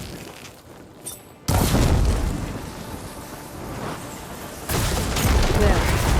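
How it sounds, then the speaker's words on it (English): Blaze barrels in Horizon Forbidden West set off by fire ammo, two loud booming explosions a few seconds apart, each followed by a long roaring, crackling rumble, after a brief quieter stretch. "Hitting those blaze barrels with fire ammo should do the trick."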